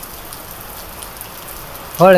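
Heavy unseasonal rain falls in a village amid wind, a dense steady patter and hiss close by, with a voice breaking in at the very end.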